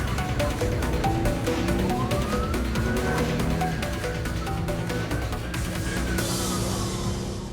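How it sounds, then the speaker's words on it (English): Greater Manchester Police car siren wailing during a high-speed motorway pursuit, a rising and falling tone held loud and steady over heavy engine and road roar for the whole stretch. "When the police sirens go on, the car makes off."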